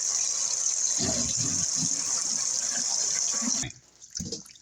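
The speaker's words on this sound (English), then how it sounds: "Run us some more water." Cold water runs steadily from a kitchen tap into a sink for washing collard greens, with splashing and sloshing as the leaves are handled, then the flow cuts off near the end.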